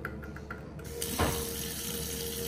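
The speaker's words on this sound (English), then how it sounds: "First, I'm gonna open the faucet," Water gushes from a faucet as it is turned on, a soft trickle and a few taps swelling into a steady, close rush of running water.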